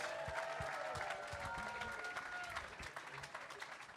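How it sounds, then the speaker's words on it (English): Audience applause at a comedy roast, with clapping and crowd noise that stays steady and fairly loud, mixed with some voices and a faint tonal background. "Give them both a round of applause."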